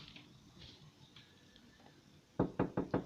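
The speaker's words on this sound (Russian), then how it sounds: "Никого нету, но ко мне кто-то стучится." Four sharp, loud knocks on a front door come in quick even succession near the end, after a quieter stretch of faint room noise and small ticks.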